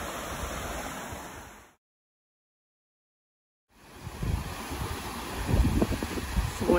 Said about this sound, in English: Lots and lots of waterfalls.